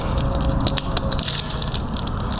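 Packaging around JE forged pistons for a 2018 Honda Civic Si is carefully unwrapped up close, giving a dense run of crinkly crackles and papery rustles with a few sharper snaps.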